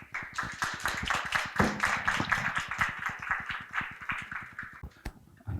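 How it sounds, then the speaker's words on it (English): Audience applause at a seminar on an African rice project: dense, steady clapping from many hands that carries on for several seconds before tapering off near the end. "Please give him a big round of applause."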